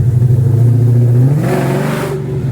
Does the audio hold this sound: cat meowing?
no